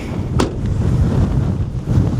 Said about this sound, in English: Pulled out the microphone because it is a little bit windy out here.